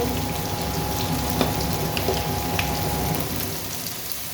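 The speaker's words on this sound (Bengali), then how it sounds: "দিয়ে দিচ্ছি কপি ভালো করে কষতে নেব" Cauliflower sautéing in a pan with salt and turmeric, a steady close sizzle and crackle with scattered pops running throughout, no talk.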